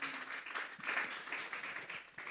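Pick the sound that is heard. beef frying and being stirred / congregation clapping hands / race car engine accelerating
congregation clapping hands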